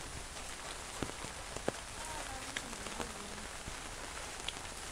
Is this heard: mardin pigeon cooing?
no